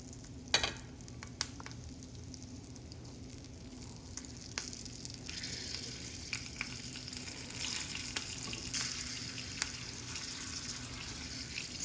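Stuffed chili peppers frying in oil with fenugreek seeds make a faint, close sizzle that grows a little busier partway through, with a few light taps of a utensil.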